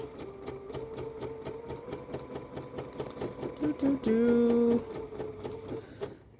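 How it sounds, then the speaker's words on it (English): A sewing machine with a piping foot stitching steadily with a fast, even mechanical chatter, close up, then a brief louder whirring burst near the end before it stops, with a short voice under the machine noise. "I think this machine is set to do a little knot stitch."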